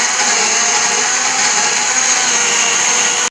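A kitchen blender whirs loudly and steadily, blending pepper, tomato and onions for a sauce, its motor holding a continuous high-pitched drone until it cuts off abruptly at the end.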